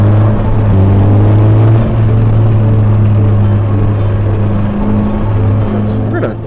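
A 2017 Polaris Slingshot three-wheeler accelerates hard, its engine a loud, close, steady drone with strong low harmonics from a ride-along position, and a voice talks over it.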